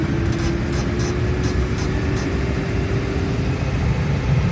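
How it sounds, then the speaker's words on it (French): New Holland T6.175 tractor engine running loud and steady at raised revs, a constant low diesel drone with a faint rising whine and a few light knocks at the start. "Je vais augmenter les régimes du tracteur jusqu'à à peu près 1700 tours."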